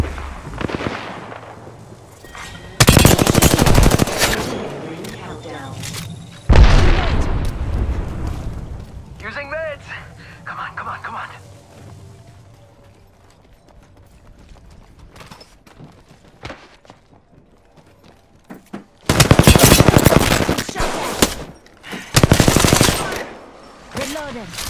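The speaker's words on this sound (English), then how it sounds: "Taking fire!" Bursts of automatic gunfire in the video game Apex Legends during a final-circle fight, with two loud volleys early and two more near the end, separated by quieter game sounds.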